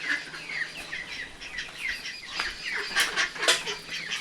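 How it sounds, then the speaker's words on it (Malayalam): Chickens on a home farm cluck and chirp in the background, intermittent calls at moderate distance over a quiet outdoor bed, no talking. "കോഴികൾ"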